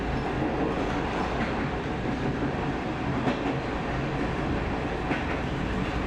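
Train running on the Anten-Gräfsnäs railway in Sweden along its longest straight, a loud continuous rolling rumble with faint clatter and occasional clicks from the wheels, no voices.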